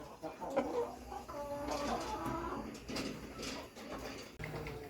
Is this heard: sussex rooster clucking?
yes